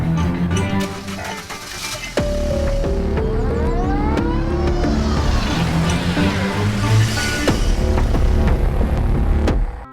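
A car engine starts up and revs, then settles into a loud, steady throbbing hum as the vehicle pulls away and keeps driving.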